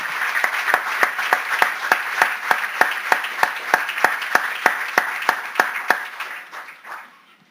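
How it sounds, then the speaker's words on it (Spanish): A church congregation claps in steady unison, sharp evenly spaced claps at a brisk rhythm that run for several seconds, then trail off and stop. "Démosle un aplauso al Señor"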